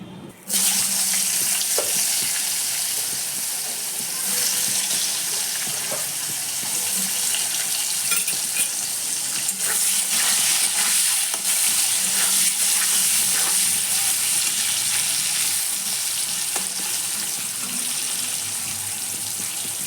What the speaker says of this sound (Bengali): আমার মাছ ভাজা হয়ে যাচ্ছে